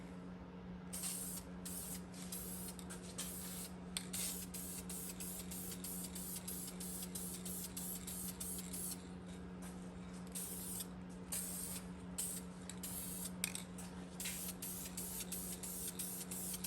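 VHT paint sprays onto a damaged Nissan 350Z part in repeated hissing bursts from an aerosol can, each spray starting and stopping quickly over a faint steady hum, with no talking.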